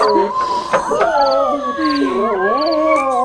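Several dogs howl together in a loud, wavering chorus, their overlapping voices rising and falling continuously, with no talking.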